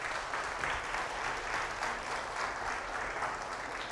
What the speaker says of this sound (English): that one definitely deserves a round of applause